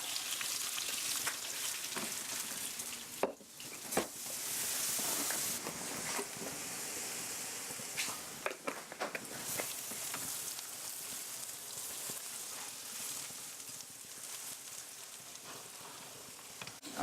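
Diced onions, celery and garlic fry in oil with a continuous close sizzle and crackle, punctuated by occasional sharp clinks and stirring scrapes.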